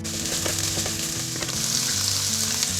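Courgettes sizzling in oil in a pan while making bibimbap, a close, even frying hiss with small crackles and light stirring, no talking.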